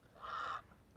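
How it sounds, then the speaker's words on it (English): A heron gives a single harsh squawk near a lake, a short raspy call lasting about half a second, moderately loud against quiet surroundings. "that freaking heron just squawking like crazy"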